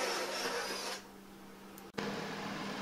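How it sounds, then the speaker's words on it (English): A step drill bit bores out a hole in steel Unistrut channel, giving a steady, loud grinding hiss that eases partway through, cuts out for a split second, then resumes. "Right now I'm using a step bit to expand one of the holes on the Unistrut"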